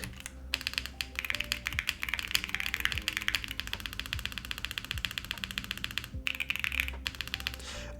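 Rapid clacky typing on a Luminkey65 mechanical keyboard, with dense keystrokes, heavier thocking presses and a continuous low hum underneath, with a couple of brief pauses.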